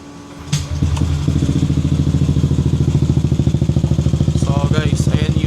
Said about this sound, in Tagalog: start natin itong motor